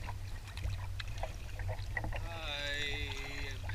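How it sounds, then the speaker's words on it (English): A canoe is paddled solo across water toward a dam. Soft splashes and drips from the paddle come up close, with a faint whistling tone partway through and no speech. "I am paddling towards the dam right now."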